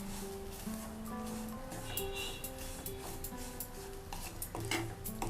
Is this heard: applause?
no